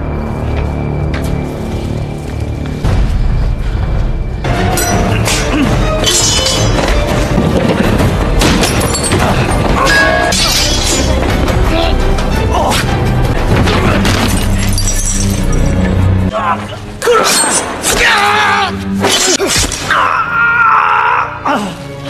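Loud, dense crashing and booming with thuds, shattering and pained groans and cries, a chaotic film fight after an explosion, continuous throughout.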